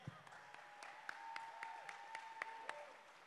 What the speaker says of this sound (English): Round of applause again for our forum leaders